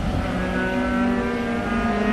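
Race car at the Road America June Sprints feature race: a steady, sustained engine drone with a held mid-pitched tone, neither rising nor fading much over two seconds, with no talk over it.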